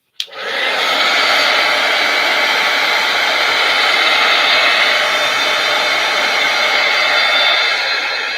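A hair dryer switches on abruptly and blows steadily to dry a craft piece, a loud, continuous close-up whooshing roar that holds at an even level for several seconds without any talk.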